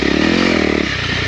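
A 2022 Honda CRF 300L engine drones close and steady while riding off-road, then eases off in a brief, loud burst.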